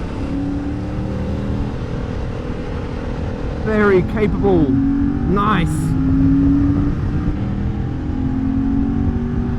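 A Yamaha MT-07 motorcycle engine hums steadily while riding through corners, with a brief rev and gear-change flurry midway, under a rider's spoken comments.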